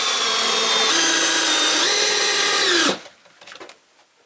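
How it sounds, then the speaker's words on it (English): Power drill driving screws during an over-the-range microwave installation, a loud close whine held for about three seconds with pitch shifts as the screw seats, then stopping and giving way to faint clatter. "Put a couple more screws in here"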